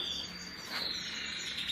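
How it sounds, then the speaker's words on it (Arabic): A European goldfinch sings in an aviary, giving a thin, high, continuous twittering that sounds faint and distant against a soft background hiss. "الاسم العلمي ديالو طائر الحسون"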